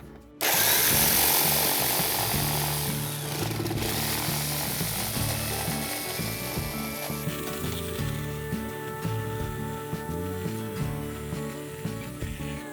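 A power tool cuts through scrap wood clamped on a workbench, with a steady, loud buzzing whine that starts abruptly and runs continuously without pause.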